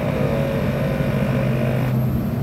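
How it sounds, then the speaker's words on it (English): An ARB twin air compressor mounted on a truck hums loudly and steadily with a low mechanical drone, a higher whine shifting midway as it runs continuously up close. "the compressor's gonna kick on, you're gonna hear that."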